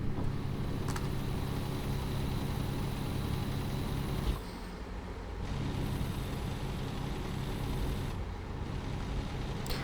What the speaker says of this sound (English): I'm going to quickly roll down the window so that we can hear the truck engine a bit more.